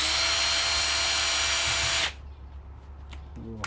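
A power drill backs Phillips screws out of a power washer motor during teardown, a steady loud whirring drive for about two seconds that cuts off abruptly, leaving quieter handling noises.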